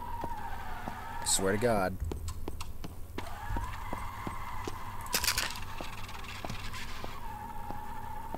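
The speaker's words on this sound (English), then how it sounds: "That sounds like drifting and other cars crashing." Drifting cars from Initial D send out a long, loud tire squeal with rapid skidding chatter and sharp clicks, accompanied by a brief rising whine, while a voice speaks over it.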